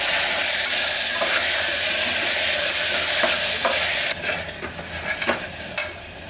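Chopped tomatoes dropped into a pan of frying onions for a mutton bone curry: a loud, steady sizzle that later breaks into softer spitting and stirring scrapes.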